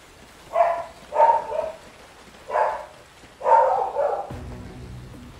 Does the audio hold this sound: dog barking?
yes